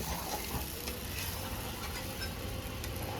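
Taro paste cooked in oil in a pan over a wood fire, a faint, steady low sizzle and crackle with soft stirring scrapes, quiet and continuous without voices.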